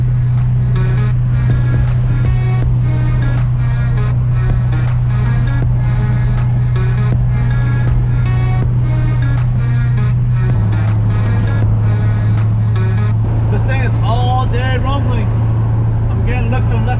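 A loud LS-swapped Mazda RX-7 FD engine hums steadily while driving with windows open, with a strong low drone and rhythmic ticking, shifting pitch near the end as wind and road noise rise.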